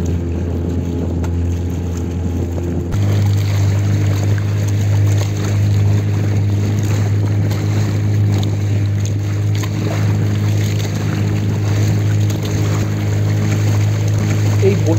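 A speedboat passes near lock gates by a hydel power project, its motor a continuous, fairly loud drone over wind and water with some talk mixed in.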